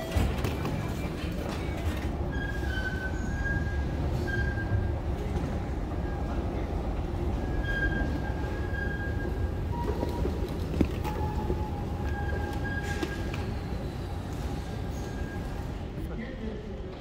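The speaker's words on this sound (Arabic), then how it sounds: "هذا هو مترو صبيحة غوكشن كاديكوي" Istanbul's Sabiha Gökçen–Kadıköy metro train runs inside the station with a steady mechanical rumble, creaks and brief high tonal whines. Someone talks over it for most of the stretch.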